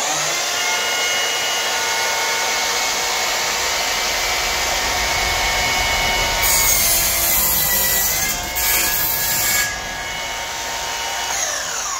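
A loud, steady high-pitched whine of a power tool cutting through the metal of a Peugeot Boxer camper van, running continuously with a brief surge and dip partway through.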